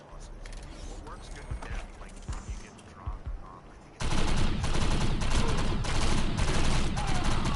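Shotgun fire in the video game Defiance: scattered quieter shots at first, then a sudden loud stretch of rapid, dense blasts and clattering impacts that continues steadily to the end.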